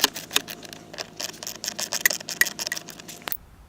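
Ratchet clicks rattle quickly and closely as 8mm screws come out of the blend door actuator motor behind the dashboard of a 2011-2015 Ford Explorer, a dense ticking run that stops abruptly near the end.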